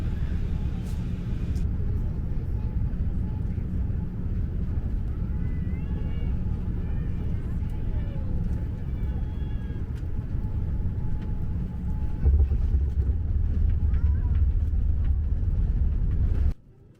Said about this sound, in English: This is the closest I've got to getting a view of a real plane landing in first person view.